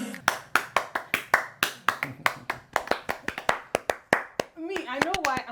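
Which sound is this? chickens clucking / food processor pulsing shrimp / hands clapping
hands clapping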